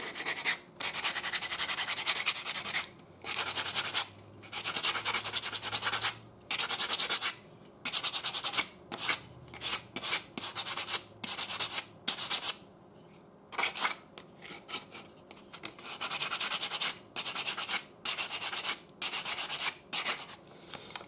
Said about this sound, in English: now I'm gonna start using 80 grit sandpaper to get a nice final finish